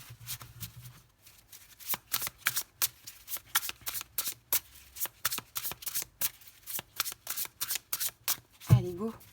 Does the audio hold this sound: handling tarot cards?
yes